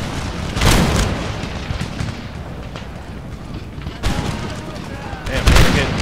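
Musket volley fire from line infantry in Empire Total War, with booming bursts of massed shots at the start and again near the end and a rumbling battle din between them.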